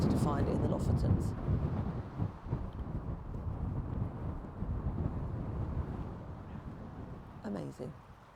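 Strong wind buffets the microphone on a sunny beach in Norway's Lofoten Islands, a steady low roaring rush that fills the whole stretch, with a person speaking briefly near the end.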